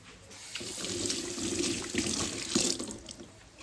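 Water from a kitchen tap runs steadily into a sink while hands are washed during the making of a pepper prawn curry. The flow is continuous and close, with light splashing and no voices.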